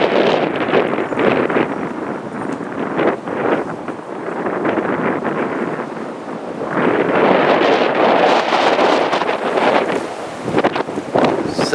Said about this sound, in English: Sure is a windy one here for us here in Michigan.